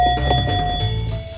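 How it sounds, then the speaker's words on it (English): A small handheld bell dings several times in close succession, bright and ringing with a sustained tone, used to score beers during a tasting at home; no talk over it. "where's my bell?"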